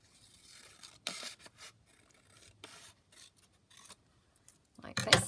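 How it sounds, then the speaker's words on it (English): Scissors snip through a brown paper envelope in short, scattered bursts of crisp cutting, with a louder, denser run of snipping near the end. The sounds are close and fairly quiet, with no voices. "Right, let's cut this down."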